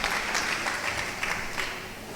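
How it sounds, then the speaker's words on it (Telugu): A church congregation at a testimony gathering clapping hard, a dense, loud, continuous applause with no voices. "గట్టిగా చప్పట్లు కొట్టి గట్టిగా గట్టిగా కొట్టడమ్మా"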